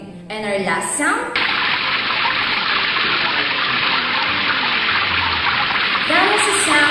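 Water flows in a continuous rushing stream, close and steady, with short voiced sounds at the start and end.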